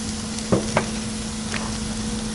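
Bison burgers sizzle and crackle on a Weber Genesis II E-310 propane gas grill, a steady close frying hiss with a couple of brief clanks as the lid is opened.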